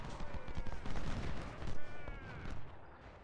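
Musket volleys from massed Civil War infantry lines in Ultimate General: Civil War, a dense crackling rattle of overlapping shots rolling on for about three seconds, with a louder burst near the middle.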